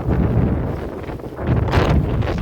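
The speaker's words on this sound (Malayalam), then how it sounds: "കാറ്റ് ഭയങ്കര പാറിപ്പോയി." Strong gusts of wind on a hilltop during a trek, buffeting the microphone in a loud, roaring rush that dips briefly and then surges again, with no talking.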